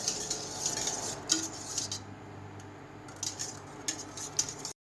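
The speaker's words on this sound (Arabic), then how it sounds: "بنحركه لبين ما يغلي اللبن." Metal utensil scraping and clinking against a pot as milk is stirred on the stove, in short irregular bursts with quiet gaps.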